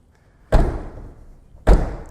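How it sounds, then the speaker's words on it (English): Two solid thuds as the trunk deck lid of a 2012 Ford Mustang Shelby GT500 is shut, a lighter drop followed by a firmer closing slam, both close and clear. "Close the deck lid."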